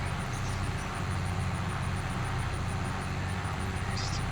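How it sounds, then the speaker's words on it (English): John Deere tractor engine running with a throaty sound, a steady loud rumbling drone that stays constant throughout, without speech. "I don't remember this John Deere sounding quite so throaty"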